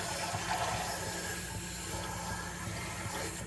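Water from a four-cup measure pours steadily into a pot of sautéed vegetables for red beans and rice, a continuous close splashing hiss that runs the whole time without talk.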